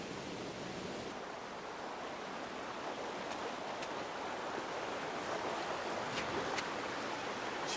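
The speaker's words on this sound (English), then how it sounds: "It's a watery place with pools and waterfalls and a rushing noise." A rushing river with pools and waterfalls in Wales gives off a steady, broad roar of water, constant and moderately loud throughout with no voices.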